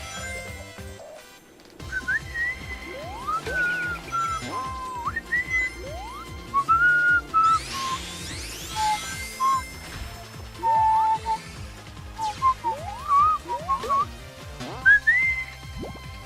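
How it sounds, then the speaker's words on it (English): A person whistles a bright, wavering melody along with Sonic Generations game music, the Sky Sanctuary stage, in phrases and rising slides over the steady soundtrack. "I love to whistle to this song."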